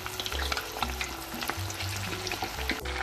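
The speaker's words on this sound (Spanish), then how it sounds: "Vamos a freír las alitas." Chicken wings deep frying in hot oil, a busy crackling sizzle with scattered pops and a few low clunks of stirring, close and steady.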